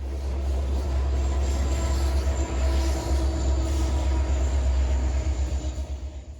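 A loaded trash train rolls past in the Allegheny hills, with SD70ACE helper locomotives pushing it, giving a heavy continuous rumble with rhythmic wheel clatter and faint squeals throughout.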